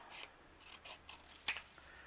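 Scissors snipping during a journal-making session, a few soft, quiet cuts and rustles with one sharper snip standing out near the end, no talk.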